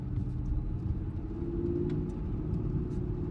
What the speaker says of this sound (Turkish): Sadece motor sesi ve egzoz sesini duyuyorsunuz.